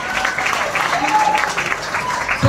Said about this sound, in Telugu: ఒకసారి బిగ్ రౌండ్ ఆఫ్ అప్లాజ్